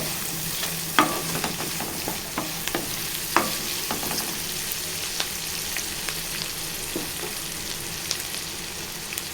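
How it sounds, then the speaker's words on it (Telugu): Curry leaves sizzle in hot oil over a medium gas flame, a loud steady frying hiss broken by scattered pops and crackles, close up with nobody speaking. "ఇప్పుడు కరివేపాకు వేసుకోవాలండి. గ్యాస్ ఫ్లేమ్ మీడియంలో పెట్టుకోవాలండి."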